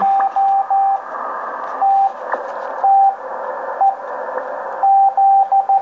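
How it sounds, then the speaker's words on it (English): Morse code CW radio signal picked up by an amateur station and decoded by an Arduino board, heard as a steady tone keyed on and off in short and long beeps over a constant background hiss. "you can see the software is following the CW."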